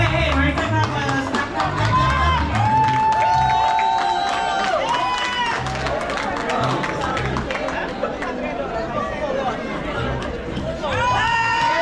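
Audience at a St Lucia Independence Anniversary gala in Connecticut, a loud, sustained mix of crowd chatter, whoops and scattered cheering, with an amplified announcer voice talking over it.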